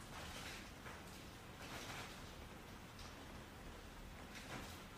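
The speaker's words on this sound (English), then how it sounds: "you can hear the rain falling here" Steady rain falls in California, a dense even hiss with soft surges, heard alone without voices.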